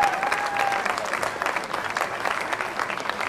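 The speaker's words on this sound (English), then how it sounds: "round of applause for the women's street division right there" Crowd applause for the women's street division at a scooter championship contest, steady dense clapping with cheering that holds loud and even throughout.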